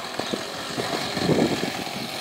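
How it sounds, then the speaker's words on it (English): A live-fuel model diesel locomotive idles outdoors on a windy afternoon, a steady low engine rumble with faint rhythmic pulses under constant wind buffeting. "The engine's at idle."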